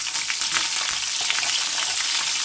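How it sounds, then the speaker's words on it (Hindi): Green onions sizzle and fry in a small amount of hot oil for a tadka on restaurant-style Chinese rice, with a steady, close crackle and no talking. "थोड़ा सा ऑयल लेंगे और उसमें डालेंगे हरे प्याज"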